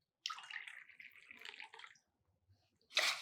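Water is poured into a vessel for herbal tea, two cups in total, in two close, splashy pours. A short pause separates them, and the second pour begins right at the end.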